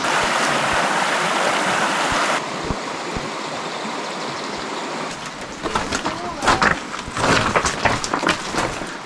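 Rushing water of a creek flowing through a gorge, a loud constant wash that shifts partway through, later broken by irregular splashing bursts as if wading or stepping through the current.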